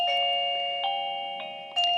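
A phone rings with an incoming call from an XTU J10 doorbell camera, a sustained electronic chime tone with three short bell-like strikes spaced through it, close and clear with no talking.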